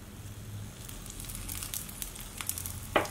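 Rava dosa sizzling on a hot pan as ghee is added, a soft continuous frying crackle with small spits and pops growing more frequent, ending in a sharper pop, with no talking.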